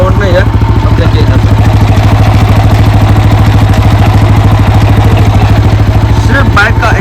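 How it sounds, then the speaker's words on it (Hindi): An Apache RTR 160 4V motorcycle engine, topped up with 1200 ml of engine oil after an engine problem on a Nepal hill road, runs at a loud, close, even idle with a steady rhythmic thumping throughout. "अभी इंजन का साउंड प्रॉपर सही होगा, अब बिल्कुल भी घरघराहट का साउंड नहीं है।"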